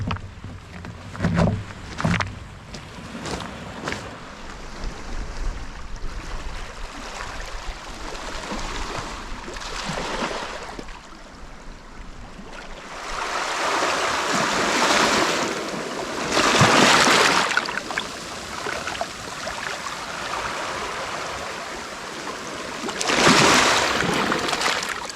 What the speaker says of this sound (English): The water pushing up lovely now.